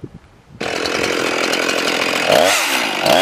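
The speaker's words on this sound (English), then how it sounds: "I have some kiln dried pine that I want to try cutting with this chain" A chainsaw fitted with a self-sharpening chain starts abruptly after a quiet moment and bites into kiln-dried pine, a loud, close, sustained buzzing whine that bogs and surges as the cut proceeds.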